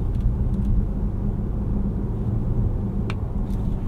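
Steady low rumble of road and engine noise inside a 2019 Volvo S90 T5 Momentum all-wheel-drive sedan while driving, continuous and fairly loud with a few faint ticks and no talking.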